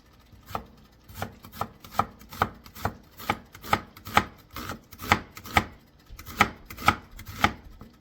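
A knife chopping red onion on a cutting board for a Ugandan katogo dish, with steady rhythmic thuds repeating roughly twice a second, close and clear, and no talking.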